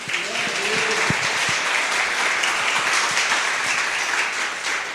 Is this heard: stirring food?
no